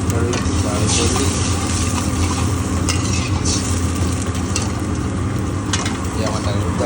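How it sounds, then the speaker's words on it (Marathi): Dal boiling in a pot of water: a loud, constant bubbling roar with dense churning texture and occasional splashy flares, running unbroken throughout. "पाणी उकळलं, डाळ उकळली."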